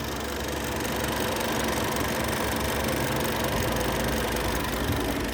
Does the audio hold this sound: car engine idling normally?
yes